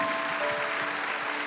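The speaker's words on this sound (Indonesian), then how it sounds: "Kasih tepuk tangan dulu buat Tuhan." Congregation clapping during an Indonesian worship night at church; a brief burst of dense, close applause filling the whole moment, loud and without talk.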